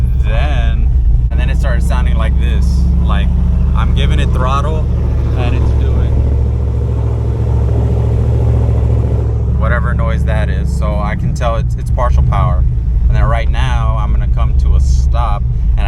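A cammed Camaro engine idles with a loud, lumpy rumble as its revs sag low, while someone talks over the steady throb close by.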